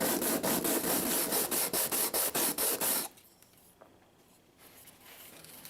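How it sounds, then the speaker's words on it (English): Rhythmic back-and-forth strokes of sandpaper rubbing against a Tapco vertical grip, loud and close for about three seconds before stopping, leaving quiet room tone with faint handling noise. "Try and use different parts of the sandpaper."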